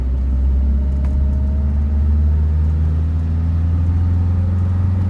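Lancia Fulvia 2C Berlina, an old Italian car, cruising steadily on the road, its low engine drone and road rumble continuous and even throughout, with no talk.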